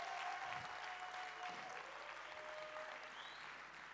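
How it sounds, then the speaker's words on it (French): Audience applause at the tuSeo 2025 festival after Serge Cherubin's set, a steady wash of clapping from a crowd, distant and even, holding throughout without a break. "On applaudit très fort."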